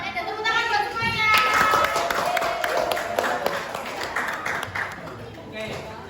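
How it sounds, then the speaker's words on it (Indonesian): A school class claps hands together in a room, a loose burst of many small claps mixed with children's voices and chatter throughout. "Temannya dan tepuk tangan buat semuanya."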